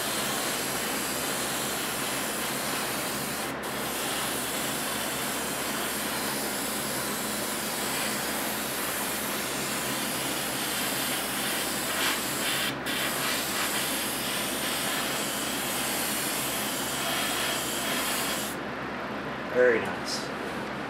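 An airbrush sprays paint onto a 1/25 scale 1966 Batmobile model kit, a steady close hiss of air running continuously for about twenty seconds with only brief dips, while someone talks over it.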